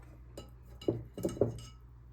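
A boiled egg gets pushed through a metal cookie cooling rack, giving three faint clinks and soft squishing knocks in quick succession close up.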